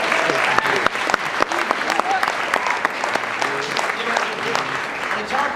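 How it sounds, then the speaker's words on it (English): Gala audience applauding, a dense burst of clapping with sharp individual claps standing out, mixed with scattered voices and cheers from the room. "Round of applause right there."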